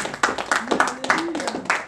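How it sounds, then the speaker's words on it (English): Congregation clapping hands during a church sermon, several sharp uneven claps over about two seconds, mixed with voices and talk. "Clap your hand for Jesus."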